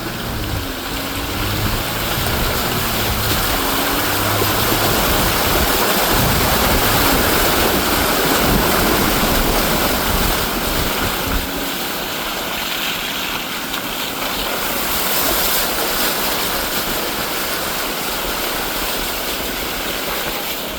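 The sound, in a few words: truck driving through a muddy water hole off road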